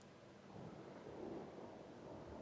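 A thunderstorm in a horror film rolls on with a low, sustained rumble of thunder and a steady rain-like hiss, filling the short stretch without any voices.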